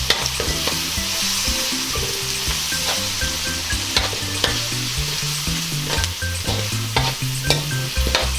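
Pork, bitter gourd and tomatoes sizzle and fry in a pan while a utensil stirs them, scraping and clinking in an irregular rhythm over the constant close, loud crackle of hot oil.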